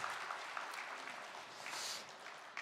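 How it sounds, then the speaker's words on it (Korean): A church congregation applauds during a Sunday morning service to welcome family members, a soft, distant wash of clapping that stays even throughout. "박수로 환영하겠습니다."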